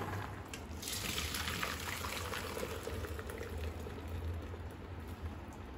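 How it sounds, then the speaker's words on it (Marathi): Water from a pot of boiled pasta pours out in a rushing gush that peaks early, then continues as a steady splashing stream draining away, fairly close and without talk. "तर आता आपण हा गाळून घेऊ"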